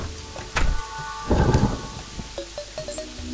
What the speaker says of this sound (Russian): это гром, что ли, такой тут?